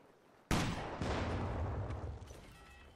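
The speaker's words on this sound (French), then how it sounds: "Là, j'ai balancé une grenade aussi." A grenade goes off in the World War II strategy game Company of Heroes 2: a sudden loud blast, then a second burst, followed by a long rumbling decay that trails off into distant battlefield noise.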